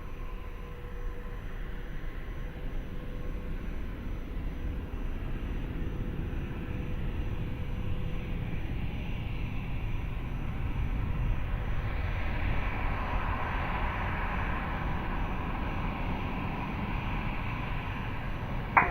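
A departing Airbus A320 at Lisbon Airport roaring as a steady, broad jet rumble that swells slightly toward the end, heard from a distance with no talk.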